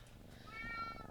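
A cat meows once in the online role-playing game Shroud of the Avatar, a short rising and falling cry heard faintly and alone.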